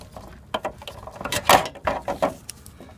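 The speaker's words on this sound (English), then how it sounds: "small little bolts here that I need to take off" Small bolts being unscrewed by hand while a medium CRT is taken apart, giving a close series of irregular metallic clicks and ratcheting scrapes with short bursts of handling noise and no talking.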